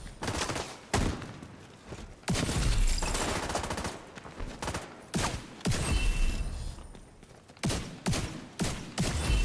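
Gunfire during the Golden Bullet event in the video game Contagion, bursts of rapid shots and heavy booms repeating across the whole stretch, loud and dense with short gaps between volleys.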